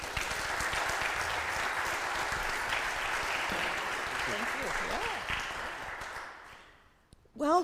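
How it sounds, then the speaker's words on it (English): Applause from a church gathering for Pastor Heidi at St. Mark Lutheran Church during an interfaith advocacy day, steady at first and tapering off, with voices chattering near the end. "another round of applause, please, for Pastor Heidi"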